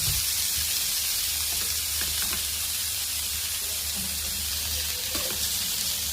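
Cubes of paneer fry in butter in a pan, giving a loud, steady sizzle with a constant hiss and occasional faint stirring clicks; no one talks.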